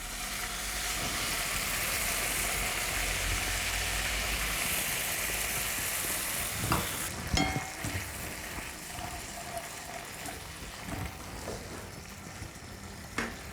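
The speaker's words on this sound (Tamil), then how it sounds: "இது நல்லா கொதிச்சுட்டுருக்கட்டும்." Tamarind water boils in a pan on the stove for a Tamil brinjal masiyal, giving a steady, close sizzling and bubbling hiss that runs throughout, with a few sharper clicks and pops toward the end.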